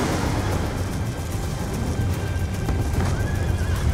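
Horses whinnying loudly during a cavalry charge in the shooter Call of Duty: Black Ops 2, set over a dense rumble of hooves and battle noise, with a clear neigh rising near the end.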